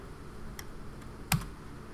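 A few faint keystrokes on a computer keyboard while typing a command in Rhino 3D, soft scattered clicks with one slightly louder tap, in a quiet room.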